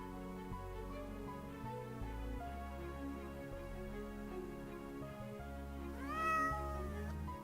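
A cat in a video game meows a few times over steady game music, with a rising, more prominent meow near the end.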